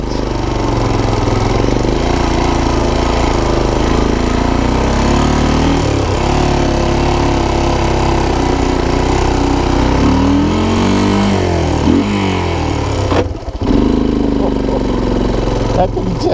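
A worn Honda TRX250 ATV engine runs steadily in second gear with no first gear available, its loud, close drone rising and falling in pitch as it pulls, with a brief dip near the end.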